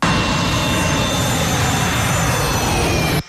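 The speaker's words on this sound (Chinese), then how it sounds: "只见 F-18 大黄蜂战斗机缓缓滑行" A Swiss Air Force F/A-18 Hornet fighter jet taxis on a public road during a highway landing exercise in Switzerland, its loud, steady close-up engine roar filling the scene before cutting off abruptly at the end.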